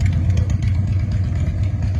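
A motorcycle parked close by idles, giving a steady, low, rumbling engine drone that stays even throughout.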